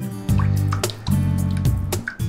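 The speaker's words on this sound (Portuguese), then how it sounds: "colocar aqui com uma xícara de água e a pimenta" A cup of water is poured into a pan over demerara sugar and chili pepper to make a syrup, giving a close, steady liquid splash and trickle in two pours with no talk.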